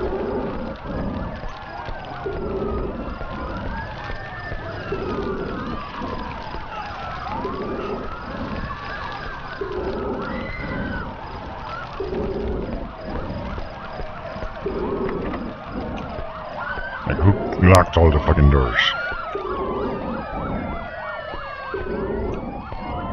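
Wailing sirens sweep up and down through the Worst Case Z game soundscape alongside a rhythmic low pulsing, loud and continuous, with a brief burst of a sharp burst near the end; someone speaks briefly over it.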